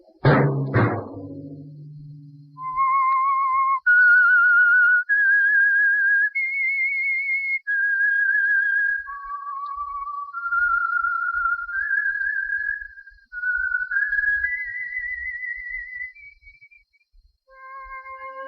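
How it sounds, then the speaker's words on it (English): A clear whistled melody of sustained, wavering notes rising and falling, the theme of a 1947 radio drama, heard alone after a brief low sound at the start. "Let that whistle be your signal for the Whistler each Wednesday night at the same time."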